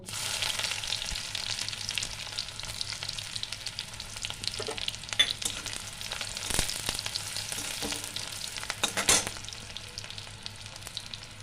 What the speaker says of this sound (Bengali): কুচিয়ে রাখা পেঁয়াজটা আমি ভেজে নেব।